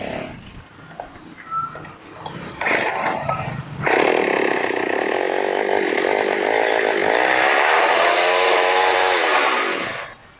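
A small cultivator machine engine is pulled and coughs briefly, then catches and runs at a loud, steady buzzing idle for several seconds before cutting off abruptly; the sound is close.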